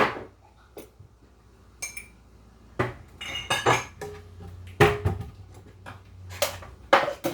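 Dishes and cutlery clink and clatter in scattered bursts, close by, as plates and utensils are handled and rinsed, with no talking.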